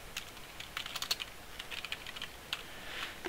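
Keys clacking in irregular bursts as code is typed on a computer keyboard, close and fairly quiet, with no talking.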